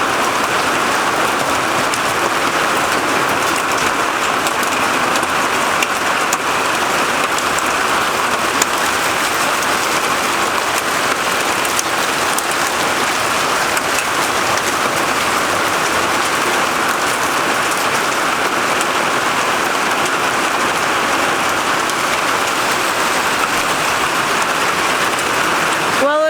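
Heavy rain pours steadily over a garden during a storm, a loud, dense hiss of drops hitting surfaces that continues without a break and with no voices.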